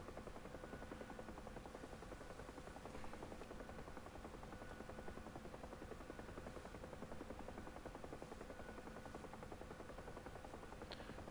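UH-1 Huey helicopter in the DCS flight simulator game, a steady, even whir of turning rotor blades and turbine drone holding at constant low volume throughout.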